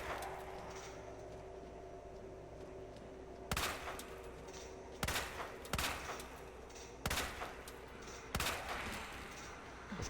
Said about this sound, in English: I want to shoot this guy's leg out